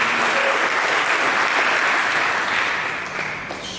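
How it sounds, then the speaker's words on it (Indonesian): Sustained applause from a church congregation during a sermon, loud and dense, fills the whole stretch and eases off slightly at the end, with no talking over it. "Berikan tepuk tangan yang meriah."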